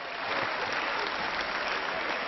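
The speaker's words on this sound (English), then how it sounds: "that's the first time I've ever received such applause" Sustained applause from a large crowd of members filling the European Parliament chamber, a dense, steady wash of clapping that stays loud and even throughout without letting up.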